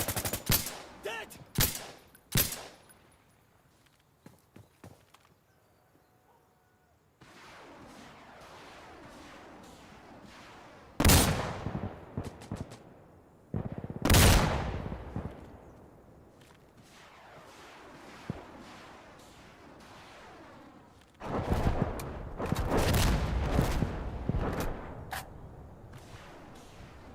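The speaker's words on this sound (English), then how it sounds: "Rocket barrage is incoming!" Sharp gunshots and loud blasts of a rocket barrage in the video game Death Stranding, a burst of rapid cracks early on, then heavy booming impacts in several clusters separated by quieter rumbling stretches.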